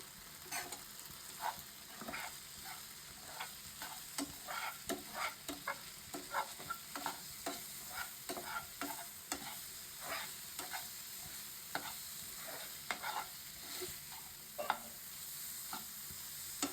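A bread pizza mixture fries in a frying pan while a spatula stirs it, a faint continuous sizzle broken by regular scraping strokes.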